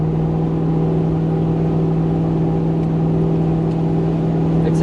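Toyota Hilux LN106 with a 1UZ V8 engine and automatic transmission, the lock-up engaging while driving: a steady, loud engine drone with a low, even hum from the cabin that holds constant throughout.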